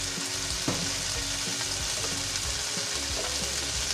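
Longganisa sausage frying in oil with a steady, close sizzle and small crackles and pops throughout, no voices.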